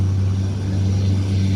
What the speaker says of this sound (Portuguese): outro avião subindo aí